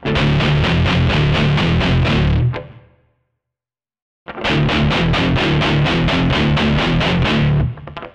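Heavily distorted electric guitar chords through a modified BOSS MD-2 Mega Distortion pedal with low cut, strummed in a rhythmic pattern, tight and dry-sounding, cutting off to silence midway before resuming just as loud.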